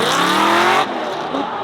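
A drift car roars past close by at high revs at a UAE drift event, tyres squealing, then the engine note drops away as it passes.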